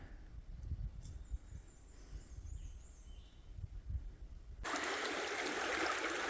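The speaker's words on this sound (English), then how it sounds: "Let's see if we can get across there without getting wet." A flowing stream at a ford crossing, a steady rushing wash that starts faint under low rumbling, then jumps suddenly to a loud, close, broadband roar.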